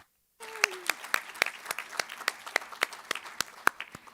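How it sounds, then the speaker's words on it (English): Applause for student panelists at a board of education meeting: a modest audience clapping in a steady, fairly sparse rhythm of distinct claps after a short silence, with a brief voice at the start. "let's give our student panelists one more round of applause."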